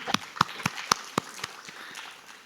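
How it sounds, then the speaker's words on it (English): Scattered, uneven claps for panelists at a discussion on Indian knowledge systems and AI, several sharp distinct hand claps at first that thin out into softer, sparser clapping. "Ladies and gentlemen, please give a round of applause to them."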